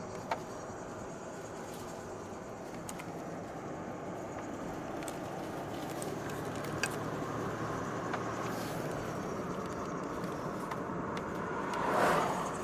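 A car drives through Chiricahua National Monument in Arizona, with a steady low engine and road rumble plus wind noise that holds evenly throughout, and no talk.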